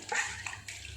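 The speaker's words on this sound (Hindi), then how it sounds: "देखिए रिंस हो रहा है, सारा पानी हमारा निकल रहा है" Water gushes and splashes in a Samsung 6.2 kg top-load fully automatic washing machine during the rinse stage, a brief close burst of running water that surges in uneven pulses.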